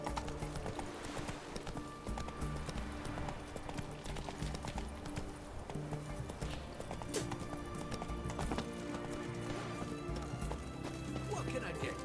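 Roach, Geralt's horse in The Witcher 3: Wild Hunt, trots with a steady clip-clop of hooves and an occasional whinny, layered under game music and ambience while a voice talks over it.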